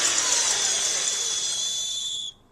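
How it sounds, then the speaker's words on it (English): An electric mixer beats three cracked eggs until frothy, giving a loud, steady high-pitched whine that runs evenly for over two seconds and then cuts off abruptly, with no voices. "I cracked 3 eggs into the mixer, and I'm going to beat them until they're frothy."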